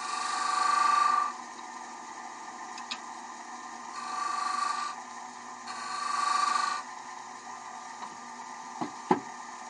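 A traditional-grind woodturning gouge cuts inside the rim of a wooden bowl on a lathe: three smooth, soft scraping passes rise and fade over a steady motor hum, followed by a few sharp clicks and knocks.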